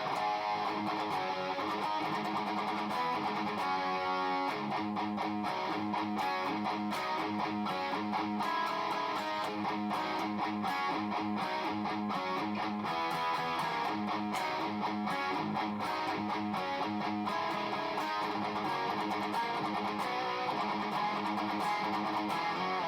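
An electric guitar through a modified all-tube Marshall amp at low bedroom volume, with a warm, lightly overdriven tone, plays continuous chords and riffs at a moderate, even level, with no voices.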